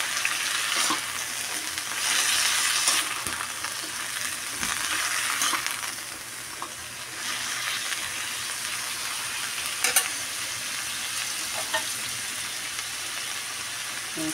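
Taro stalks sizzle and crackle in a hot pan as they are stir-fried for adobo with tomato and shrimp paste, a steady frying hiss with intermittent bursts as the mixture is stirred.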